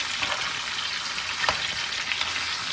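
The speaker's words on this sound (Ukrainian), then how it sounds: "Перемішуємо це гарненько." Chicken being stirred in a pan, a loud close sizzle with a few scraping strokes of the utensil, continuous and without voices.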